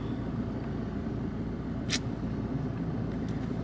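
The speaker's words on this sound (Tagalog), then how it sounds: "So, ngayon, ipit na ipit po tayo sa traffic." Steady road traffic is heard from inside a car stuck in a jam, a constant low rumble of engines and tyres with a couple of faint high squeaks.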